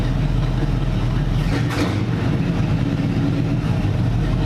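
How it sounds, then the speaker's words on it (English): A car engine fitted with a 23-year-old NASCAR ignition runs at a loud, steady idle close by, with one quick throttle blip midway that briefly lifts the revs before settling back. "just a little touch of the throttle. Breathe on it and it's revving up."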